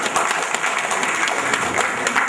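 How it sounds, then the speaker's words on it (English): Conference audience at a cybersecurity event giving a round of applause, a loud dense wash of many hands clapping continuously from start to finish. "Please can we give it a round of applause?"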